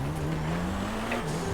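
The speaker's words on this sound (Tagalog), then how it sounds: "Maraming kotse pa." Cars roll past on a road, a continuous loud motor hum whose pitch slowly climbs and then drops as one goes by, with no talk.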